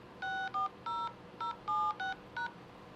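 A telephone keypad beeps out a conference access code as about eight distinct dual-tone presses in an uneven rhythm, clear and close with no talking.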